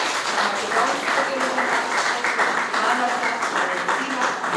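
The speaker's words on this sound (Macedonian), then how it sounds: "Ве молам еден голем аплауз за рецензентката на зборовезница" An audience applauds steadily throughout a book presentation event for Zboroveznica, dense clapping at a constant level with no talk over it.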